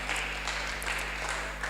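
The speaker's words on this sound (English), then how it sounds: "Let's keep clapping." An audience at a CV writing and LinkedIn workshop claps continuously, a dense, steady patter of many hands at moderate distance over a constant low hum.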